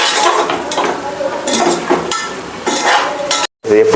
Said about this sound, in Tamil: இது அப்படியே அந்த மசாலாவோட கிண்டணும்